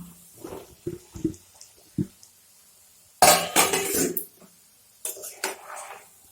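Soybean chunks and potato pieces tipped into a pan of fried-down spices with turmeric and chilli powder, giving a burst of loud clattering and sizzling bursts between quieter utensil knocks.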